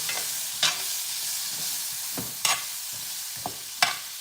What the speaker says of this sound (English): Just saute these onions all the way down